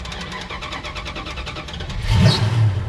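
A big 440 engine in a Challenger cranks with rapid rhythmic starter whirring, then catches and revs loudly up close.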